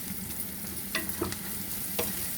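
Onions frying in a pan for ridge gourd fry make a steady, close sizzle, broken by a few light scraping and clinking strokes of a spatula.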